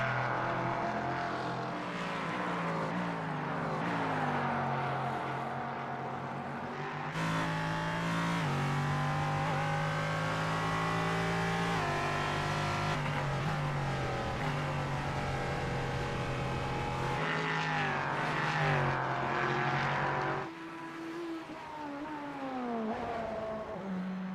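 A BMW race car engine in a sim racing game at Watkins Glen roars loudly and continuously from on board. Revs rise and fall through repeated gear shifts, with sharp drops between sections of the lap and no talk over it.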